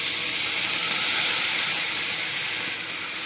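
Prawns dropped into hot oil in a home kitchen give a loud, steady hiss and sizzle close up that holds for about three seconds and eases slightly at the end, with no voices over it.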